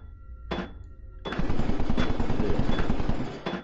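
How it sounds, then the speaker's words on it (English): Rapid bursts of automatic gunfire crackle in the SCP: Containment Breach video game, a short burst followed by a longer sustained volley of closely spaced shots and a final brief burst, loud and without talk. "I heard the gunfire."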